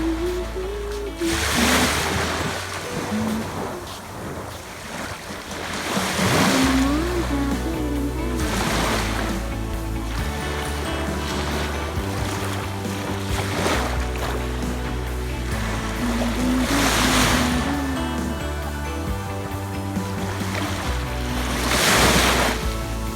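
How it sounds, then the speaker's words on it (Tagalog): Ocean waves rolling onto a clean beach in Japan, a steady loud wash of surf with repeated breaking swells every few seconds and wind buffeting the microphone throughout, no voices. "Ito yung beach dito sa amin. Malinis."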